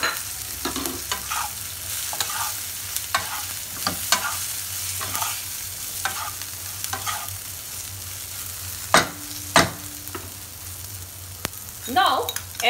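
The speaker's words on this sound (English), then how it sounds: "Now add the broccoli." Broccoli frying in a pan with green chilli, stirred repeatedly: a steady low sizzle runs throughout, broken by scraping spatula strokes and a few sharper clinks near the end, with no talking.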